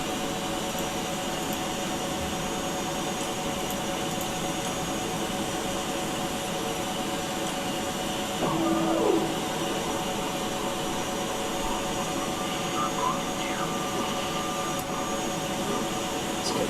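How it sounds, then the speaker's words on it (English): Steady loud roar of a jet engine starting up on the number 1 side in a flight simulator game, a continuous whine and rumble holding throughout with a brief swell midway. "Start number 1 engine, please."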